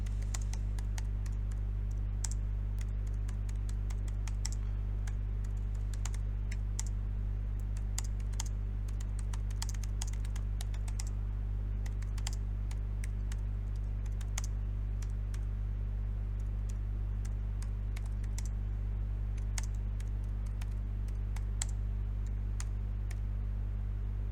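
Someone types a document title on a computer keyboard in Word. Rapid, continuous key clicks run steadily for over twenty seconds, close and clear over a faint constant hum, with no voices.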